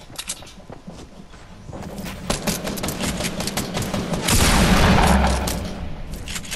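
Video game gunfire cracks in a rapid run of sharp shots, building to a dense loud burst of fire near the end, heard close with occasional footsteps and thuds.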